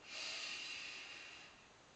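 A single deep breath during a relaxation shaking exercise, a close, airy rush of air that swells quickly and then fades over about two seconds, heard alone.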